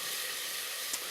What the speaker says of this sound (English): You can hear that sizzle off there nice.